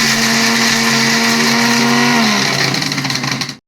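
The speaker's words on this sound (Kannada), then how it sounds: "ಇದಿಷ್ಟು ಹಾಕ್ಕೊಂಡು ರುಬ್ಕೋಬೇಕು." A kitchen mixer grinder blends mint, coriander, ginger, garlic and green chilli into a masala paste: a loud, steady motor whine runs continuously and alone, its pitch dipping slightly as the load shifts before the motor switches off.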